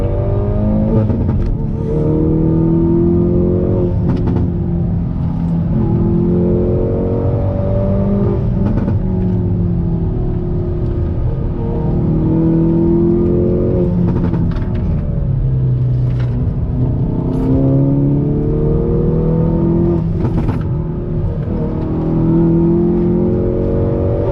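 A Hyundai Veloster N engine revs hard and accelerates repeatedly, loud and close, the pitch climbing through gears with a steady rumbling roar and no talking.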